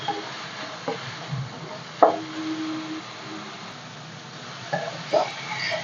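Tomatoes with salt stirred in a pan for drumstick palya, a low sizzle broken by several sharp knocks and scrapes of a spoon against the pan, close and without voices.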